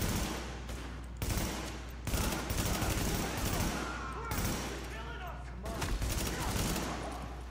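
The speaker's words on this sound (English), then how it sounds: "And you have explosive ammo. Go ahead and use that a little bit too." Rapid gunfire with explosive ammo in The Division video game, burst after burst of sharp automatic shots over about seven seconds, with a voice speaking underneath.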